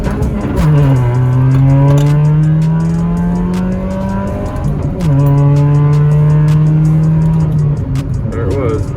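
A boosted 2006 Chevrolet Cobalt SS engine revs hard from a standstill, pitch climbing steeply through two gear shifts, loud and close, with a brief lull between pulls.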